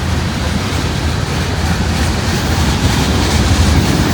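A heavy freight train rumbles past at Cowan, Tennessee, a loud, continuous low roar with a broad noisy wash and no breaks.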